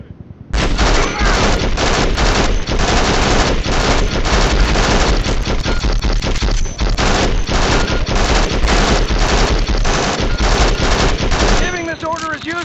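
Whole-squad gunfire at training targets in Conflict: Desert Storm II – Back to Baghdad, a dense, loud, sustained barrage of overlapping automatic fire lasting over ten seconds and ending abruptly.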